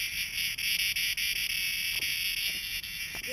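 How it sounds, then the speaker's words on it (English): A loud, steady insect drone of a very large cicada fills the whole clip, a continuous high buzz with slight flutters, close by. "That's the biggest cicada I ever saw."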